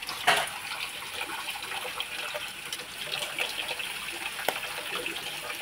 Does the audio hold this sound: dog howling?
no